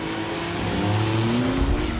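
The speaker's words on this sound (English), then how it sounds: "This is the Jaguar XJ-220." A Jaguar XJ-220 supercar drives past close by, its engine note droning loud and steady with a rising tone and some tyre noise, no voices.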